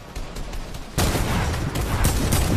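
Rapid gunfire exchanges in Fortnite during a World Cup solo match, a burst of loud overlapping shots that keeps sounding as a dense, continuous volley after a quieter opening.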